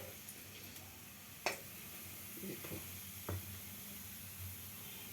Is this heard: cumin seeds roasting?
yes